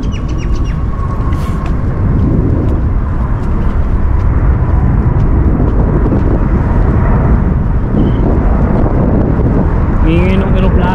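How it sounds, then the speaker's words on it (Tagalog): An airplane passes low overhead near the Sydney Airport lake, a loud broad roar that fills the whole stretch, with birds chirping and people talking nearby. "Ingin ng aeroplano."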